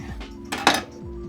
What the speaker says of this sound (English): Remove the pith and seeds with a spoon.